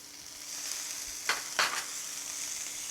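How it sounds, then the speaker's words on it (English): Prawns and tomatoes stir frying in a pan, a steady hiss of sizzling oil with two louder bursts of sizzle as the food is stirred, no talking. "Stir fry the prawns, and along with that I am going to add a little"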